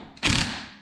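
A retaining nut being snugged onto the strut of a 1987 Porsche 924S, giving a short, close mechanical ratcheting burst that starts abruptly and trails off within a second.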